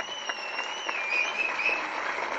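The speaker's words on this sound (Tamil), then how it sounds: "உண்மையிலே அவருக்கு தாங்க ஓங்கி கைத்தட்டணும்" Audience applause for the music composer at a Tamil film audio launch event, a sustained patter of clapping from a crowd, heard at moderate level under a high-pitched tonal ringing.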